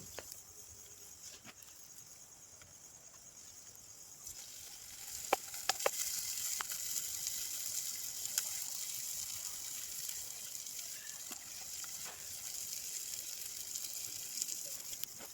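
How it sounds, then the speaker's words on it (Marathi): Oil poured into a hot cooking pan for a village-style egg curry, a faint hiss and patter that swells into a steady sizzle partway through, with scattered small crackles and pops. "आता आपण याच्यामध्ये तेल टाकणार आहोत"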